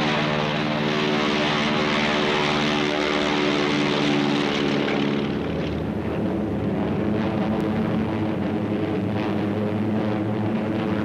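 World War II P-38 Lightning fighters fly top cover, their propeller engines making a loud, sustained droning roar that shifts in pitch about halfway through as the planes pass, with no voices.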